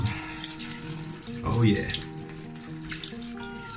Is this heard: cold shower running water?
yes